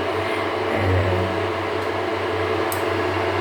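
An induction cooktop runs during cooking, giving off a steady, close electrical hum with a faint fan-like hiss that holds unchanged throughout, with no talking.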